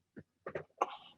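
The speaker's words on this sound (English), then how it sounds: "that your cough is okay" A person coughing during an online meetup Q&A, three short separate coughs, the last one harsher and trailing off, close and fairly quiet with no talk.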